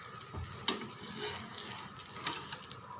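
Food frying in oil in a pan gives off a steady, crackling sizzle with small pops and spits, close by and continuous throughout.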